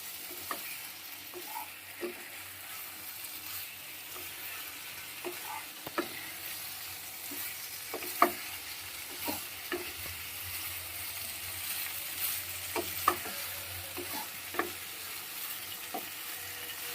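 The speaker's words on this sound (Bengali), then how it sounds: "আলু পটল সয়াবিন মশলা সব কিছু একসঙ্গে আবার একটু কষিয়ে নেবো" Fried potatoes, pointed gourd, soybean chunks and spices are sautéed together in a pan. A soft, low sizzle runs throughout, broken by scattered scrapes of the spoon against the pan, with no voices.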